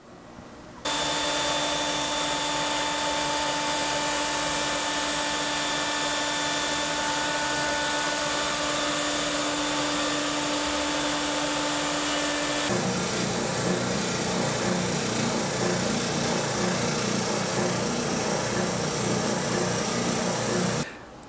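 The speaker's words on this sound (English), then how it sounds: "So let me get this center cut out of my scroll saw." A scroll saw cuts out the center of a wooden transfer board, a steady, close motor whine with a buzzing blade that runs almost without a break, its tone shifting partway through as the cut continues.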